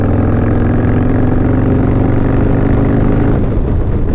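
A car engine fitted with a race cam pulls from low revs at about 2,000 RPM around 60 mph, a loud, deep, steady drone building slowly under throttle, heard from inside the car.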